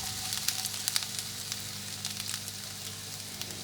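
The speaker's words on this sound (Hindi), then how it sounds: "1 टेबल स्पून घी में हम अपने ये बादाम रोस्ट करेंगे" Almonds roasting in a tablespoon of ghee in a frying pan give a steady, close sizzle with faint crackles and occasional light stirring scrapes, without any talk.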